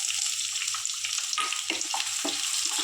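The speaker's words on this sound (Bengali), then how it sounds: "পেঁয়াজ দিয়ে দিলাম" Sliced onions hit hot oil with cumin seeds in a kadai for a Bengali chorchori, giving a faint, steady sizzle with a few sharper crackling pops near the end.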